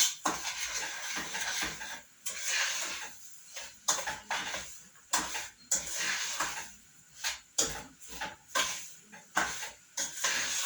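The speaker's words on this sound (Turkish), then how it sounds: "Şimdi biraz da şekerle kavuruyorum onu." Sugar sizzles while being roasted with other ingredients in a pan, a steady hiss broken by regular scraping and stirring strokes against the metal, close and fairly quiet.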